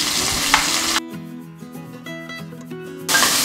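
Oil sizzles loudly as shallots fry at the start and again at the end, with a stretch of music between; no speech.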